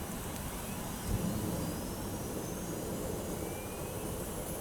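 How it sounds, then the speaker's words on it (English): In the Prepar3D flight simulator, the right engine of a Tornado F3 jet spools up. It gives a steady, loud turbine roar with a thin whine that slowly rises in pitch, alone without voices. "So engaging the right starter."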